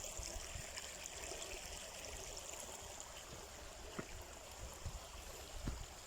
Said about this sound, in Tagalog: May falls po siya pero maliit lang yung tubig.